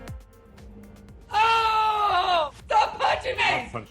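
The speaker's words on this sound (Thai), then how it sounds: "จู่ๆก็แหกปากร้องออกมาอย่างไม่มีปีมีครุย" A man at a job interview suddenly lets out a loud, sustained scream, followed by a burst of further shouting and yelling that ends abruptly; quiet room tone before it begins.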